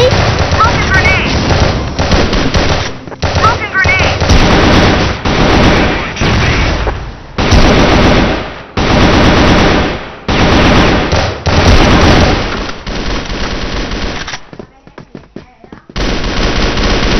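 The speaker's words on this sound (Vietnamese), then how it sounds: "Lựu đạn nè, né đi." Gunfire and grenade blasts in a shooter video game's bomb-planting mode with an AK-47: loud, dense rapid automatic bursts and booms, broken by short near-silent gaps and a quieter stretch near the end.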